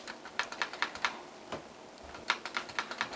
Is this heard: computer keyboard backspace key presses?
yes